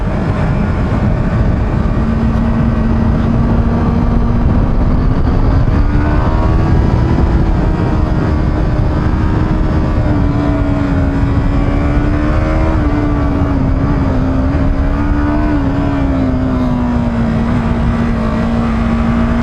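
A Yamaha R25 motorcycle engine pulls hard in second gear, a loud, close, steady drone whose pitch climbs and wavers for the whole stretch, with no talking.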